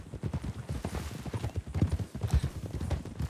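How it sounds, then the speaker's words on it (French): Hooves of a herd of wild horses clatter in a rapid, irregular gallop in the Red Dead Redemption 2 video game, moderately close and fairly loud, with no voices over them. "Oh, des chevaux sauvages."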